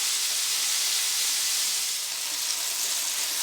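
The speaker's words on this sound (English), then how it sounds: "getting this second batch of meatballs golden brown" Meatballs sizzling in a frying pan as a second batch browns, a dense steady hiss of hot oil filling the whole stretch without pause, close and fairly loud, no voices.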